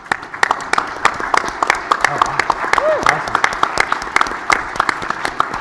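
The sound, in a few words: audience applause for next-gen leaders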